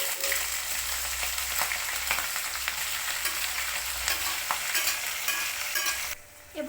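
Mustard seeds, cumin, chana dal and urad dal frying in oil for upma, a close, steady crackling sizzle with stirring that quiets near the end, no voices.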